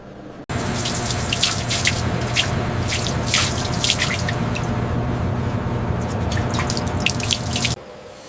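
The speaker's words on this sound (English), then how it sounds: "The gold is quickly quenched in a deionized water bath" A hot gold bar plunged into a deionized water bath at a refinery, giving a loud continuous bubbling, crackling hiss that starts abruptly, runs for several seconds and then cuts off.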